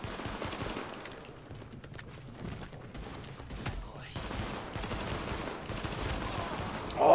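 Sustained gunfire in the video game The Division, dense rapid bursts of shots and impacts throughout, moderately loud and continuous, with game ambience underneath.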